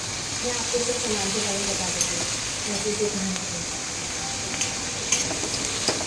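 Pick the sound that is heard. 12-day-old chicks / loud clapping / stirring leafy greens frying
stirring leafy greens frying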